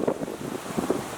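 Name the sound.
strong wind blowing outdoors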